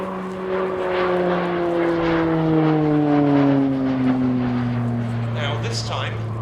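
Slovenian Armed Forces Pilatus PC-9M Hudournik turboprop performing an airshow display, its propeller drone loud and steady with slowly falling harmonic tones as it pulls away, with a commentator talking over it.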